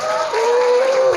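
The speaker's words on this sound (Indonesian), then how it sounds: "untuk SR tepuk tangan semuanya" Students and guests at a school Maulid Nabi celebration clapping together, a steady dense wash of applause that holds evenly for the whole moment, fairly loud and close with no pauses.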